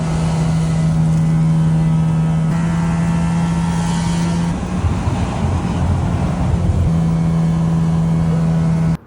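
Five-rotor rotary engine car running close by, a loud buzzy drone holding a steady pitch with brief dips and surges in revs, no talking, cut off abruptly at the end.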